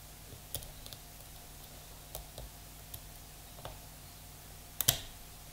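Faint lock-picking clicks from a Vachette V5 lock, a few sparse, quiet ticks scattered through near-silence, with a slightly sharper double click toward the end.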